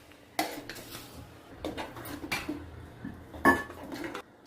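Salted curd is stirred into rice in a pot, giving a series of spoon scrapes and clanks against the metal at an irregular pace, with one louder knock near the end.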